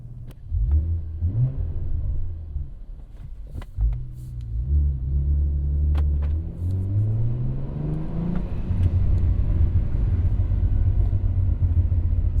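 A car engine rumbles and revs while driving, with a few faint pops and crackles from the exhaust over the steady drone.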